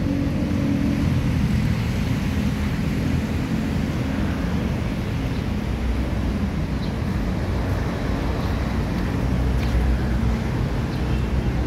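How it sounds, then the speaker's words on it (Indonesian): A Lorena bus engine idles smoothly in Palembang, a dense, continuous low rumble with a steady hum, unbroken for the whole stretch and fairly close, with no voices. "Itu mesinnya masih sangat terawat, masih halus mesinnya."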